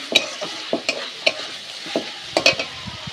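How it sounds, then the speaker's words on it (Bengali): Shredded cabbage being fried and stirred in a pan, with a series of sharp scraping and tapping strokes at an irregular rhythm over a faint sizzle, close up. "বাঁধাকপির কুচোগুলো ভেজে নিতে হবে।"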